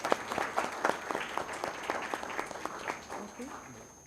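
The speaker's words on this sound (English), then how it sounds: "A huge round of applause, please." An auditorium crowd at a memorial oration claps for a vice chancellor, a lively patter of individual hand claps that stays steady, then thins and fades toward the end.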